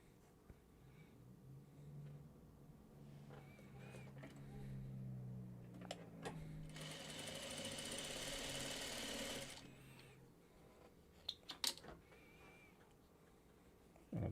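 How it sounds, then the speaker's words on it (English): A sewing machine stitches fabric pieces together in a low, steady mechanical whir that runs for several seconds and then stops, leaving a few scattered clicks and handling sounds in a quiet room. "let me sew this one first"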